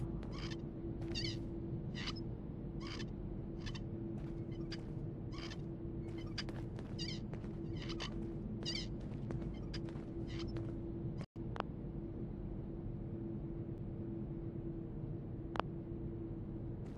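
A cat in Fallout 4 meowing again and again in a rapid repeated series over a steady game background hum, clear and near, then falling quiet for the last few seconds.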